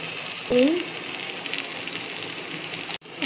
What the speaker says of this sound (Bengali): পেঁয়াজটা রসুনটা আর আদাটা ভালো করে ভেজে নেবো